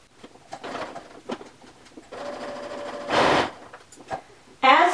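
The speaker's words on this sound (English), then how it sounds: "now we're going to sew that seam" A sewing machine runs in short bursts while stitching a shirt seam, with quiet gaps of handling between and a brief louder whir near the end, close and clear.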